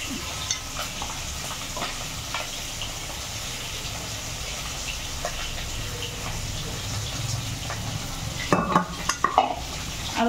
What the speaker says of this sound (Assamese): এতিয়া ঘুটনিৰে ঘুটি লম দালিত